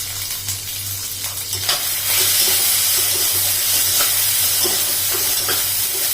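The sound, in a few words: green peas with asafoetida and salt cooking in pan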